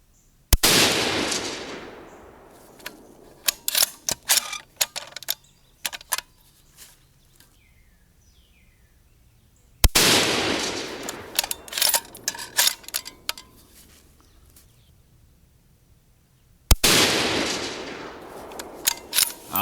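A rifle fires 168-grain Federal Gold Medal Match ammunition in three loud, sharp reports spaced several seconds apart outdoors, each followed by a rolling echo and scattered clicks and clatter of handling between shots.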